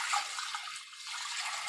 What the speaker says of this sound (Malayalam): ഇതിലേക്ക് അരി അളന്ന് വെച്ച് വെള്ളം ഒഴിക്കാം കേട്ടോ.